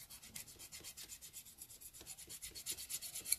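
Steady close rubbing of a buffer over dip powder nails, quick repeated strokes in a soft, even rhythm with no talking.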